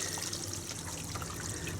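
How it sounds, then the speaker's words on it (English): Gray water drains out of an RV gray water tank, a steady, fairly faint rushing and trickling flow that continues without a break. "So that is gray water coming out of the gray water tank."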